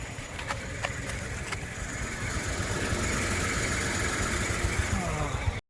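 A tractor engine idles and rumbles steadily at a construction site, a continuous mechanical drone with faint rattling knocks and no pauses.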